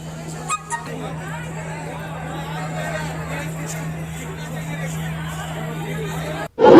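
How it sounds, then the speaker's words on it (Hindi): A crowd gathers at a vaccination camp, a steady babble of many overlapping voices with a constant low hum beneath, a couple of brief knocks early on and a loud burst at the very end. "वैक्सीनेशन कैंप में लोगों की भीड़ साफ तौर पर देखी जा रही है"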